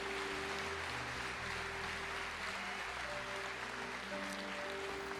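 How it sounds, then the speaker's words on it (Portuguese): Church congregation applauding together during a worship service, a steady wash of clapping throughout with a low musical hum underneath. "Mas a igreja aplauda ao Senhor."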